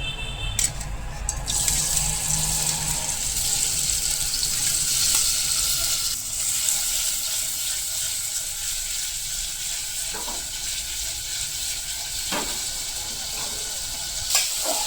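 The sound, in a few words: paneer pieces frying in a pan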